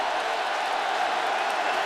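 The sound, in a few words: stadium crowd cheering after Clemson score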